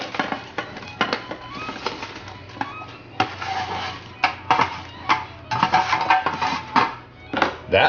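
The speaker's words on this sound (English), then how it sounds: "take our roasted potatoes here, and we're just going to dump them into this bowl, large bowl" Roasted garlic potatoes dumped from an electric skillet into a large bowl: a run of close, loud clattering knocks and scrapes of utensil and pan, irregular bursts across the whole span, no talk.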